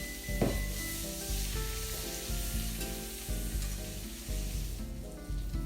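Rosemary, sage and garlic sizzle steadily in a pan over slow heat, a continuous close crackle running the whole time beneath a background layer of tonal music.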